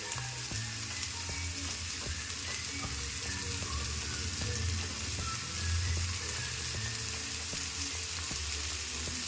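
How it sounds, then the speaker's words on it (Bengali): Onion, tomato and chopped green chilli fry in a pan for chicken kosha, giving a steady, close sizzle with soft crackling and faint stirring throughout, and no talk. "এরপর টমেটোটা যতক্ষণ না সফট হচ্ছে ততক্ষণ আমি একটু ভেজে নেব।"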